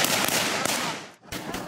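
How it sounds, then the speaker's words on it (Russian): Gunfire and blasts during Ukrainian military training exercises near the Belarus border, a dense burst of loud, close shots and bangs that briefly drops out before resuming. "Вокруг все дымит, взрывается и полыхает."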